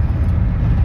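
Steady low rumble of a car interior while driving, a continuous close road and engine drone with nothing else over it.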